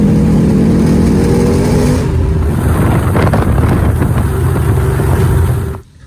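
A classic muscle car cruising on the road, its engine a loud, steady rumble with wind noise that drops away abruptly at the end.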